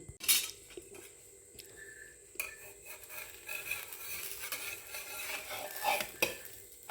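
A thick omelette is worked on a tava, with a few close spatula scrapes and light metal clinks over a faint sizzle, quiet and sporadic, and no talking.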